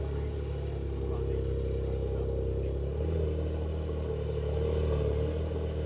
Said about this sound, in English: GT something, that's the Porsche, if you can hear that.